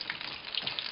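Dough treats deep-fry in a pan of oil, a steady, close crackling sizzle with bright bubbling pops.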